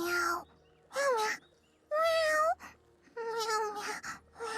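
A cat in the video game Infinity Nikki meows five or so times, each call clear and tonal with a rising-falling pitch, separated by short quiet gaps.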